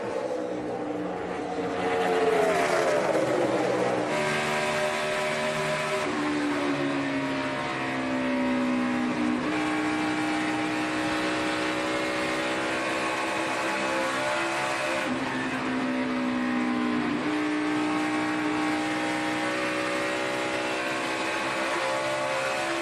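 NASCAR stock cars at the 2014 Brickyard 400 at Indianapolis roar continuously at racing speed, engine notes rising and falling as throttles are pedaled and cars pass, with several pitch sweeps over a constant loud drone.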